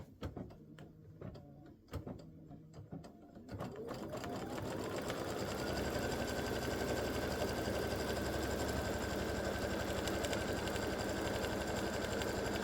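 A sewing machine tacks down fabric for a Mrs Claus quilt design, starting with a few short stitching bursts, then settling into a steady, continuous close-up whir.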